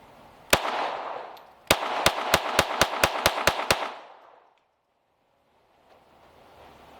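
Sig Sauer P322 .22LR pistol firing low-powered oiled rounds outdoors at a range: one sharp shot, a pause, then a quick string of about nine evenly spaced cracks over steady wind, followed by quiet.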